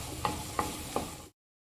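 Turkey berries (sundakkai) sautéed in hot oil, with three sharp, evenly spaced stirring scrapes over a soft steady sizzle, close up, before the sound cuts to silence.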